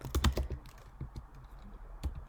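Code being typed on a computer keyboard: quiet, irregular clusters of key clicks, a quick burst at first, then sparse single taps with pauses between.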